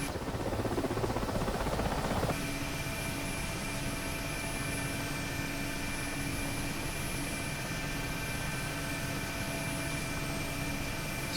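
In the DCS flight simulator, an Mi-8MTV2 helicopter's engines and rotor make a loud, continuous turbine whine over a steady rumbling drone, with a change in tone after the first couple of seconds.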